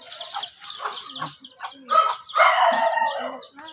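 Several chickens cluck and squawk close by, a busy overlapping chatter of hens with one louder rising call midway.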